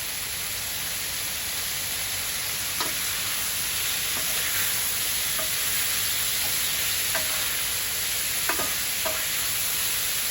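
Sliced chicken sizzling on an oiled griddle for a Philly sandwich, a loud continuous close-up hiss with occasional ticks and scrapes of turning, steady throughout with no voices.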